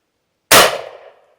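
A single loud, close blast from a Kel-Tec KSG shotgun, a sharp crack that rings out and decays over about a second, with no talking.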